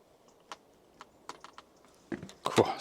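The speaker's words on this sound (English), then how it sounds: "Now I'm going to pump the brake." Pumping the brake lever on a full-suspension mountain bike gives a series of light, close clicks and taps, quiet at first, with a few sharper, louder clacks near the end.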